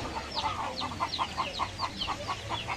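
A flock of farm chickens clucks in a rhythmic run of short, evenly spaced calls, close and moderately loud against a quiet outdoor background.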